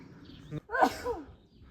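A single sharp sneeze close by, preceded by a quick breath, in an otherwise quiet outdoor setting on an uphill walk in the Eifel hills.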